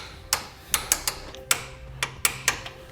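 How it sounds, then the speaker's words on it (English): Torque wrench clicking and ratcheting as base plate bolts are tightened during a Roadmaster Direct-Connect base plate install, about ten sharp metallic ticks in an uneven rhythm, close and crisp with a quiet background. "Now we can torque down our base plate bolts to the specifications listed in our instructions."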